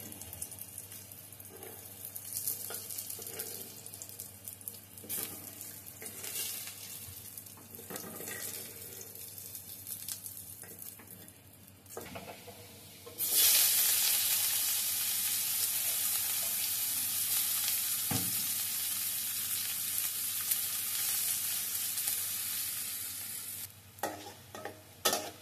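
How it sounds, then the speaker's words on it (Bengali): Onions fry in a pan with a soft, steady sizzle, broken by occasional stirring scrapes and clinks. Midway the sizzle jumps to a louder, hissing wash that holds to the end. "আমার পেঁয়াজ ভাজা প্রায় হয়ে এসেছে।"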